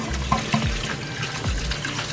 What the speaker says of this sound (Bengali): চাউমিনটাকে এরকম ফ্লোই ওয়াটারের নিচে ভালো করে ধুয়ে ফেলতে হবে